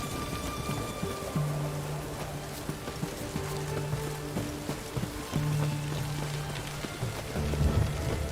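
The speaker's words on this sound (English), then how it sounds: "What a downpour." Heavy rain pours down during a downpour in The Witcher 3, a steady loud hiss of rain that fills the whole scene, with low musical tones and occasional rumbles beneath it and no voices.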